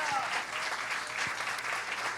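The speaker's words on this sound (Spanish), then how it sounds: "Dele ese aplauso fuerte al Señor." A church congregation claps loudly together, a short burst of continuous dense applause with a few voices blended into it.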